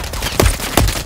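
Gunfire in the first-person shooter Modern Warfare 3 on the Favela map, heard as loud, close rattling bursts with two heavier thumping shots punching through the dense clatter.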